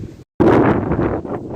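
Strong cold wind buffets the microphone outdoors near a boat in Siberia, a loud roaring rush that follows a brief cut to silence and continues without talk.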